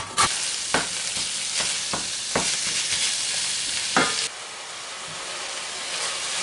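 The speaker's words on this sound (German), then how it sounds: "So, das Hackfleisch ist schon etwas angebrutzelt." Ground meat sizzles in a hot oiled pan, a steady frying hiss broken by several sharp scraping clicks of a utensil stirring, close up and loud.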